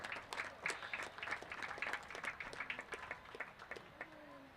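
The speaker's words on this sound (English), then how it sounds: "Nice round of applause for number 0, Lauren Robbins." Scattered clapping from a modest crowd at a girls' soccer game, rising briefly and then thinning out, heard from a distance in an open space.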